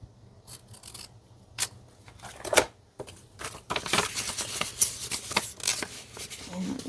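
Scissors cutting paper in close, crisp snips and rustling bursts that grow denser and louder toward the end, with no talking.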